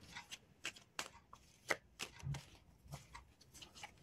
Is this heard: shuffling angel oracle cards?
yes